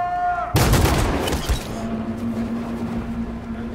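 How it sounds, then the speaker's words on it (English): Gunfire in the video game Detroit: Become Human: a loud burst of shots erupts after a held tone, then decays into a lingering rumble and a steady hum. "We got shot several times."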